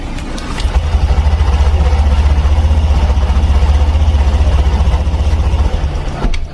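A Honda Beat scooter engine turns over on its electric starter, a steady low churning drone that runs for several seconds without catching, then cuts off.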